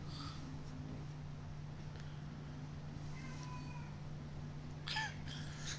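A house cat meowing faintly in a quiet room over a low steady hum, one short meow early on and a brighter, louder pair of cries near the end.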